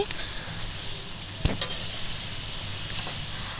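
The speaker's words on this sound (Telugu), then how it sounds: "ఆనియన్స్ ఫ్లవర్ అనేది బాగా కలుసుకునేలా పైకి కిందకి తిప్పాలండి" Onions and cauliflower frying for a cauliflower curry, sizzling steadily in the pan while being stirred, with a couple of sharp utensil scrapes midway; close and without talk.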